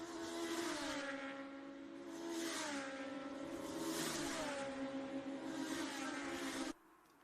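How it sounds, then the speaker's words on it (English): Motorcycle-engined race cars howl around the Knockhill circuit, high-revving engines rising and falling through gear changes in loud, close passes, then cutting off abruptly near the end. "Glorious sound from these bike-engined machines as Stuart Black takes the lead of the race."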